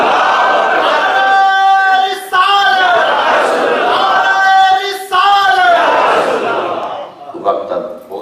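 A large crowd at a religious gathering chants slogans in loud, repeated unison cries, each rising together and breaking off, three swelling waves that fill the space.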